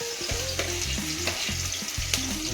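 Green chilies crackle and sizzle in hot oil with onions to be added, a close, steady frying hiss punctuated by stirring scrapes and a few sharp pops, no talk.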